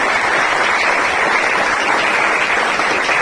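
Steady, dense applause from an audience welcoming a former committee president at a Shivjanmotsav committee felicitation hosted by a coaching class in Ashoknagar, loud and even for several seconds without talk.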